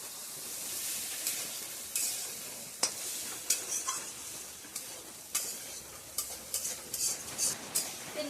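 Grated coconut frying in a wok while being stirred: repeated scraping spatula strokes over a soft, steady sizzle, close and fairly quiet.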